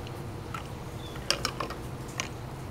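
A metal piston dropped into the body of a 2 inch piston valve, giving a few short, sharp metallic clacks and a light rattle near the middle, close by and alone over a low background hum.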